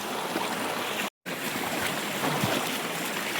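Rushing stream water pours past in a steady, loud wash of broadband noise, continuous throughout except for one very brief dropout near the start.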